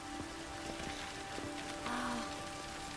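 Steady rain falling in The Witcher 3: Wild Hunt, a soft continuous patter of drops on surfaces with faint scattered taps, even and unbroken throughout.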